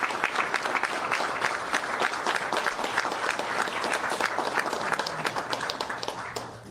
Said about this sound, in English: What are y'all clapping about?